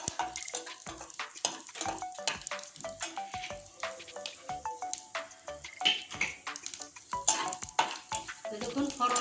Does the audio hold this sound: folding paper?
no